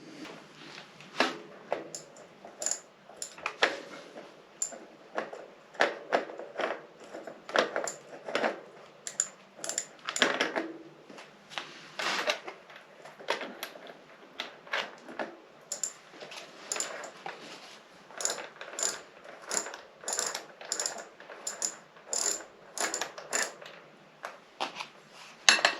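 A bicycle freewheel gives a run of light, rapid clicks and ticks in irregular bursts while being spun, close and fairly quiet, with short pauses between spins.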